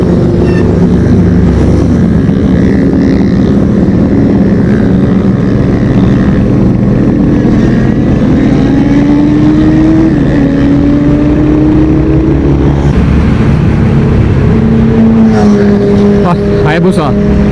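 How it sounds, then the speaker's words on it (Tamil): Superbikes ride past on a breakfast ride in a loud, constant roar of engines and passing traffic, with rising engine tones near the end and someone talking over the noise. "பார்த்தீங்கன்னா எல்லா சூப்பர் பைக்ஸ் இப்போ தாங்க போயிட்டுருக்காங்க."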